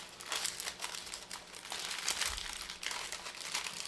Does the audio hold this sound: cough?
no